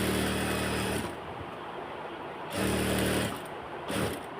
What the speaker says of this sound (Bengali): দুইটা একসাথে মিলিয়ে, সুন্দর করে মিলিয়ে তারপর আমি সেলাইটা শুরু করতেছি।